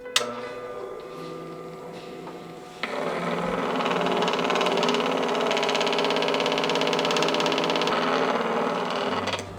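A lap grinder with a red disc polishes jasper; the machine starts after a quieter moment, then holds a steady close whirring hum with a faint rubbing grind until near the end.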